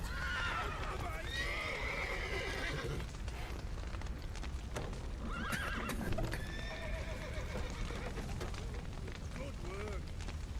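Horses neigh and whinny repeatedly over a steady clatter of hooves and rumbling commotion, with voices shouting underneath, in the video game The Witcher 3: Wild Hunt.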